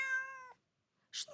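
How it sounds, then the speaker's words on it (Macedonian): A cat gives one clear, close meow, followed after a short pause by a brief scuffing noise. "Мачето мяука, мяу, мяу, мяу."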